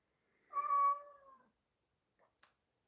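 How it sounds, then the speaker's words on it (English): A cat gives one clear, drawn-out meow at moderate distance in a quiet room, followed by a couple of faint small noises. "Kitty, will you not meow me so much?"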